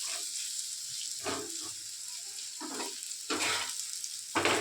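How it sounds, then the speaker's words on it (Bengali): Onions frying in a pan with a steady high hiss, broken by a few louder bursts of sizzling and stirring, close by and without talk. "পেঁয়াজটা একটু ভাজা হোক"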